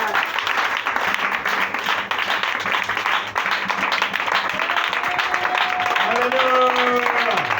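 A church congregation applauding to acclaim Jesus, sustained dense clapping from a crowd, with a voice over it and rising tones near the end.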